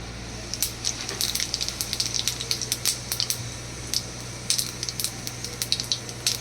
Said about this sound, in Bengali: এবার এই তেলের মধ্যে আমি দিয়ে দিচ্ছি কিছুটা সাদা জিরে